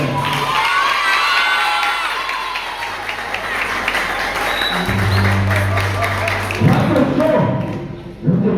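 A crowd at a gospel singing contest final for a scouting club cheers and applauds after the scores are read, loud and sustained with whoops and shouts, while a voice speaks over the noise.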